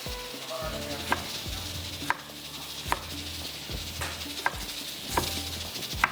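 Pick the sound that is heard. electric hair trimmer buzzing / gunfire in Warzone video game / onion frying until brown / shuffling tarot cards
onion frying until brown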